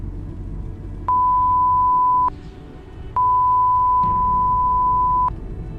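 Phone call tones for a number that is not active: two long, steady electronic beeps at a single pitch, separated by a short gap, heard clearly over faint background room noise.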